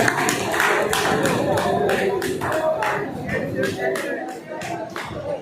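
Applause at a workers' union meeting in Malegaon, a continuous crowd clatter of hands that stays fairly loud and even, with a voice speaking over it.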